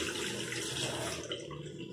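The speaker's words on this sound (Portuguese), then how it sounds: "E aí a gente abre a torneira, molha as mãos" Tap water runs steadily into a sink while hands are wetted for handwashing, a continuous close splashing stream heard alone without speech.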